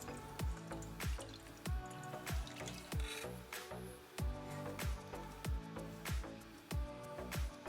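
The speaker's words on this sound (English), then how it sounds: "Strain the shiitake mushrooms and kelp soup stock into the mirin pot." Shiitake mushroom and kelp soup stock is strained into a pot of mirin, heard as a steady series of drips and splashes falling at a regular, near-rhythmic pace over a soft trickle, quiet and close.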